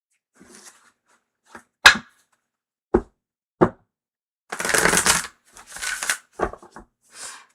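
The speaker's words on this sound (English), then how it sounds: "That was a very good shuffle." Tarot cards being handled and shuffled in short bursts: a few sharp separate snaps and taps, then a longer riffling rush and several quick flutters, close and fairly quiet with no talk.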